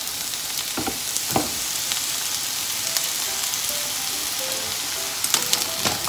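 Eggplant fries in oil in a pan, a steady bright sizzle running throughout, with a few soft knocks and scrapes from stirring.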